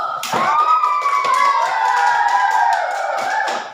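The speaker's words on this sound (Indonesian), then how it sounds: "tepuk tangan dulu." Children clap their hands together in a classroom while young voices sing or chant a sustained melody over the claps, which stay steady and fairly close throughout.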